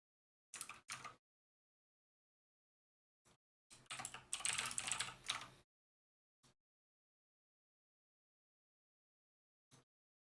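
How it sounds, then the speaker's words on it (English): Computer keyboard typing comes in short bursts: a quick double tap, then a longer stretch of rapid clicking, then a few isolated keystrokes. Close and clear, with silence between the bursts. "Why am I typing this out every single time"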